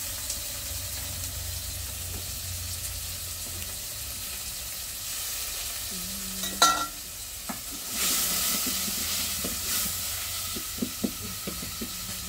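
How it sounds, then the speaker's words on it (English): Onions fry in a pan over an open fire in a Kenyan village, a faint steady sizzle with occasional scraping stirs and clinks of a utensil. "The onions were burning."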